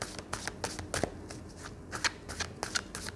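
Tarot cards being shuffled by hand, a close run of quick riffling bursts and soft papery slaps with short pauses between.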